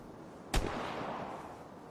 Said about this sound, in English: I definitely heard gunfire.